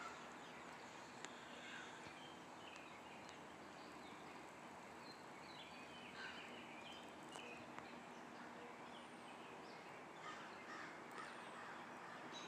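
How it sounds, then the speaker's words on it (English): Distant crows caw now and then over a steady hiss of outdoor background noise, faint and scattered across the scene. "I can hear the crows."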